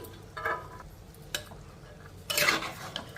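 A spoon scrapes and stirs brinjal and black-eyed peas curry in a pan, three soft clinking strokes spaced about a second apart over a quiet, faintly sizzling background.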